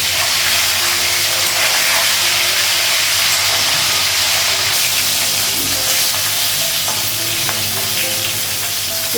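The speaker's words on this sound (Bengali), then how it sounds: "তেলটা গরম করে দেবো। মাছের মাথাগুলো লাগাবো।" Fish heads fry in hot oil with a continuous loud sizzle and hiss, with occasional crackles and stirring scrapes throughout.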